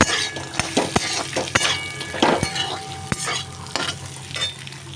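Rice and peanuts frying and being stirred in a pan, steady sizzle with scraping strokes and occasional clinks of a utensil, close by.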